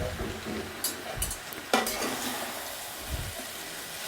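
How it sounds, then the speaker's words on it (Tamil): Egg noodles are tossed with two ladles in a hot pan, giving a quiet sizzle beneath scraping and occasional clinks of metal on metal, with a few sharper knocks along the way. "2 கரண்டி இருந்தால் நம்மளுக்கு கொஞ்சம் ஈஸியாக இருக்கும் நல்லா கிளறதுக்கு"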